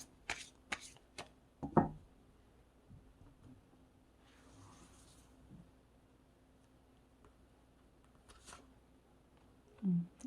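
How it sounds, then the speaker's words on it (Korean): Tarot cards are shuffled and drawn in a few quick, soft riffles and slaps at close range, followed by quiet handling and a final card placed down. "그 카드를 뽑아보도록 하겠습니다."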